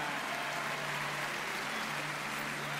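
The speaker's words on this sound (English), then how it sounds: "A big round of applause for Sandrine" A large audience applauds a volunteer named Sandrine, producing a dense, continuous wash of clapping that holds at an even level throughout, with no voices standing out.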